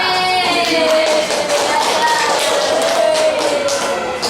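A classroom claps for a student group, a dense burst of many hands clapping close by with loud steady patter and a high whistling tone running under it.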